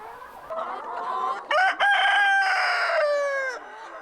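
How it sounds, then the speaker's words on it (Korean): Hens and roosters in an airy coop with rice-husk bedding cluck and crow loudly and close up, one long crowing call rising over steady clucking, with no speech. "닭장엔 신선한 바람이 넘나듭니다. 왕겨가 깔린 쾌적한 바닥에서 암탉과 수탉이 만나 자유롭게 놀고"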